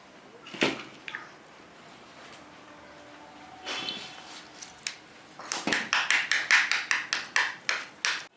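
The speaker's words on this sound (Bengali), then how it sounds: "আমার ডিমটা ছাড়ানো হচ্ছে" A boiled duck egg is peeled by hand with sharp cracking taps and crunches, sparse at first and then in a quick close run of clicks, with no talking.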